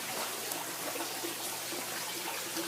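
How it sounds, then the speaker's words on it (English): Water pours steadily out of a greenhouse bell siphon, a continuous hissing trickle and splash that stays even and moderately loud throughout, with no voices over it. "So I'm just kind of taking this video so I can show him the speed that my water's coming out"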